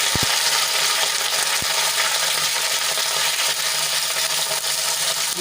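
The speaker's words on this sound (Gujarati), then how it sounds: "તો તેલ આપણું ગરમ થઈ ગયું છે। તો આપણે એમાં રીંગણાને એડ કરી લઈશું।" Eggplant sizzles in about two spoonfuls of hot oil in a kadai, a steady broadband frying hiss with a couple of faint metallic ticks near the start.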